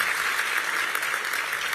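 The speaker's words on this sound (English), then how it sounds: "Give them another round of applause as well." Audience at an oath of office ceremony applauding a high school vocal group, steady dense clapping from a crowd in a hall, moderately loud and even throughout.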